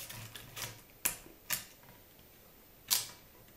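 The shutter release of a Rolleiflex Tele twin-lens camera is worked in bulb mode, giving a few sharp, close mechanical clicks at uneven intervals in a quiet room.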